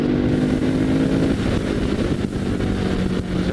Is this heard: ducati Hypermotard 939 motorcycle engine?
yes